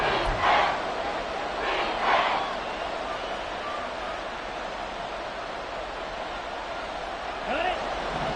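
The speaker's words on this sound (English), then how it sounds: "this crowd making it hard to hear" A football stadium crowd roars as a steady dense wash of noise throughout the late moments of a Saints versus Panthers game, with a few louder swells and a commentator's voice on top.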